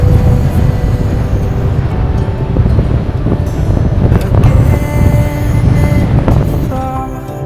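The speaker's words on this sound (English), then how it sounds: "this is very windy, storm force I would say at the moment" Storm-force wind roars steadily on a coastal walk at Garlieston, Galloway, Scotland, a loud continuous buffeting rumble across the mic with surging gusts throughout and no speech.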